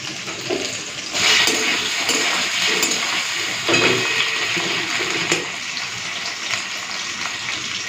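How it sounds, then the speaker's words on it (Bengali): Starchy water pours off a pot of cooked rice, a sudden gushing splash that runs on as a steady watery rush with a second surge partway through, close by and alone. "এখন ভাতের ছেনাটা করিয়ে দিচ্ছি"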